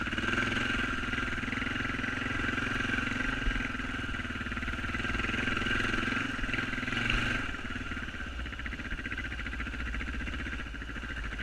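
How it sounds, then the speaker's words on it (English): A motorcycle idling and rolling slowly over ground to park near a tent in Caribou-Targhee National Forest, a steady close engine chug with a constant mechanical clatter throughout, no talking. "I'm going to park the motorcycle close to my tent."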